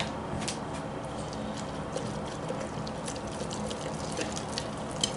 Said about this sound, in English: I'm going to add a little bit more water in there